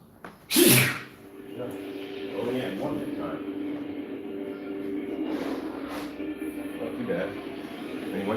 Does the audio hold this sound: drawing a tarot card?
no